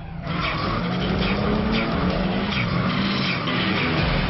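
Tyres squealing and skidding from a Nissan S14 200SX Zenki drift car with Stage 3 tune, locked differential, filter and exhaust, a continuous loud screech with engine underneath throughout.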